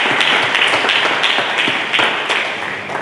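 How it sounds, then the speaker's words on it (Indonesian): A church congregation claps together, a dense, steady patter of many hands that fades slightly toward the end. "Berikan tepuk tangan dulu bagi Yesus Kristus"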